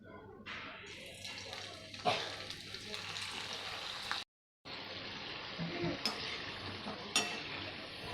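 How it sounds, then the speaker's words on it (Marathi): Snack rolls deep-frying in hot oil, a steady sizzling hiss with occasional bubbling bursts and a brief silent gap midway. "आता यांना आपल्याला तळायचं आहे मी तेल ठेवलं आहे गरम करायला आपण त्यांना तळून घेऊया"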